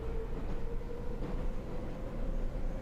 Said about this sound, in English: He's just taking the train out of the capital